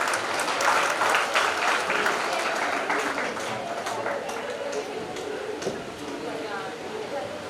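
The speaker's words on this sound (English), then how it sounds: "I request everyone to please give a round of applause." Round of applause from the audience at an international management conference in Indore, India; sharp, dense clapping that starts strong and gradually thins and fades over several seconds, with voices faintly underneath.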